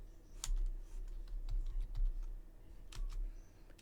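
Someone types a short word on a computer keyboard, quiet close clicks in a quick irregular run of keystrokes with brief pauses between them.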